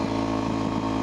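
Motorcycle engine droning steadily at moderate revs while the rider attempts wheelies, a loud continuous hum filling the short stretch.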